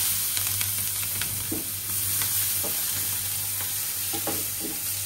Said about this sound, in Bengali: এই যে পেঁয়াজ কুচি দিচ্ছি।